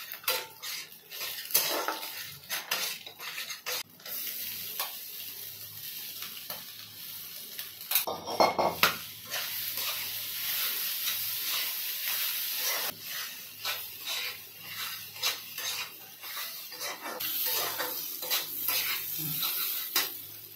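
Flattened rice being fried and stirred in a metal pan, with repeated scraping and clinking of a spatula against the pan over a soft sizzle, irregular in rhythm and close up, with no talking.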